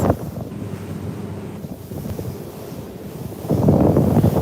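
Wind buffeting the microphone over ocean waves at sea off Maui, a steady rushing roar that swells louder near the end, with no talk.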